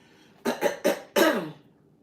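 Four rough, forceful throat-clearing bursts in quick succession, the last one longer and gravelly, close to the microphone with no talking.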